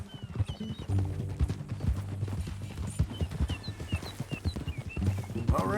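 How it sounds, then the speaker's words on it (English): Horse hooves clip-clop steadily at a walking pace in Red Dead Redemption 2, close and clear, with faint whinnies and bird chirps over a low background hum. "That a new horse?"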